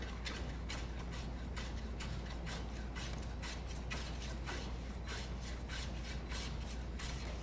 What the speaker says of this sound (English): Taking just very light shavings.